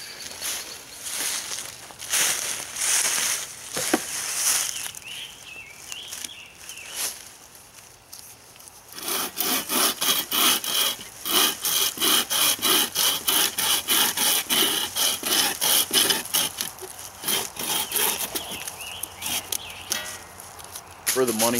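Stowell Outdoors bucksaw cutting through wood outdoors, the saw held steady and the wood pushed against it: a quiet rubbing start, then a loud, fast, regular rasp of back-and-forth strokes running steadily close by.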